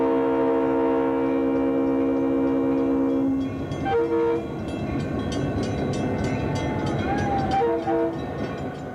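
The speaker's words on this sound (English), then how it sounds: "Our train right now is really relaxing." Roaring Camp steam train rolling through redwood forest near Santa Cruz in 1989, its long chime-like whistle blaring steadily before giving way to continuous clattering and rumbling of the cars, with brief whistle toots later.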